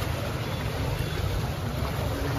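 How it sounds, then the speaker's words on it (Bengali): The Gomti river in flood, its strong current a heavy, unbroken rushing roar of water that fills the whole moment with no pauses. "পানি দেখছেন কি অবস্থা পানির স্রোত কি পরিমাণ স্রোত পানির"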